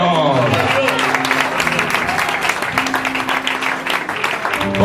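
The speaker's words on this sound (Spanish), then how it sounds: "Un aplauso al Señor." Congregation applause during a Spanish-language church sermon, dense clapping from the crowd running throughout, mixed with voices and a sung or spoken tone underneath.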